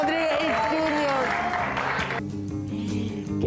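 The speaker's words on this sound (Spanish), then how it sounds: "Quiero que le dé un grande aplauso" A studio audience on a Puerto Rican entertainment show claps steadily to welcome a father-and-son duo, with voices and tonal sound layered over the applause before it thins toward the end.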